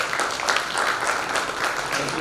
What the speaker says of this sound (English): May I please have a huge round of applause for our panelists.